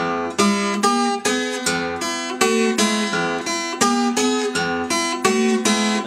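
An acoustic guitar plays the opening eight-note phrase of a Delta blues song, with bright plucked notes and strums ringing in a steady, lively rhythm, close and clear with no talking.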